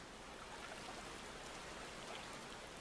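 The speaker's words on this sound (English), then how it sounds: "It's raining, or hadn't you noticed?" Steady rain falls in the Final Fantasy XIV video game, a constant even hiss of drops with no variation, moderately quiet and without speech.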